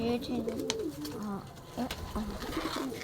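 Soft, repeated pigeon coos rise and fall throughout, with faint voices murmuring in the background.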